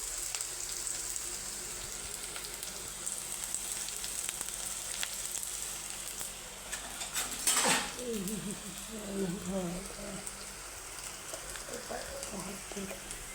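Chopped onion sizzles steadily in a hot pan while being sautéed for chicken curry, with a louder burst of spitting around the middle and occasional clinks of a spoon against the pan, under quiet home-kitchen background.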